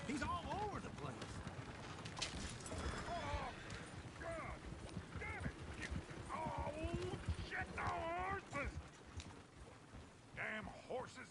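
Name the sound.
horses' hooves in the video game Red Dead Redemption 2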